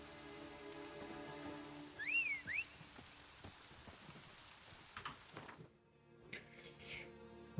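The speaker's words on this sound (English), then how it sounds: "It's just raining." Steady rain falls in the Witcher 3 video game world in the early morning, a soft continuous patter with a brief whistling cue near the start and a few faint clicks, no voices over it.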